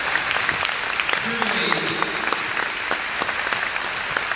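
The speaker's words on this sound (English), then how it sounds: "And we can clap as well." Audience members at a talk clap after a presentation by a deaf developer, a steady patter of moderate applause with a voice briefly speaking underneath.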